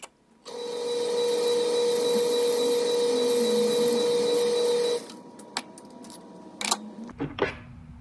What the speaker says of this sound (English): Then we're going to head over to the lathe and face down the head tube